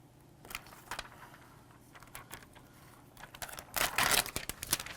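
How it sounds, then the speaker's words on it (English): A blade slices window tint film on flat glass along a trim guide, giving soft crinkly scraping strokes that swell into a louder, denser crackle near the end. "I'm going to put my trim guide right here. And I'm just going to cut along gently, just to start it at least."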